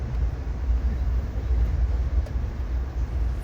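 Passenger train rolling along the rails in Colorado at around 70 to 80 miles an hour, a steady, loud low rumble and rush of wheels heard from inside the car, with no clear voices.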